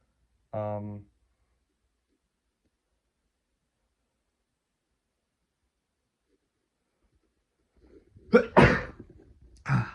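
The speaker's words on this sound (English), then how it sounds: "my allergies are gonna start acting up. I'm gonna sneeze." A single sneeze brought on by allergies, loud and close, following a brief spoken voice after a long silence.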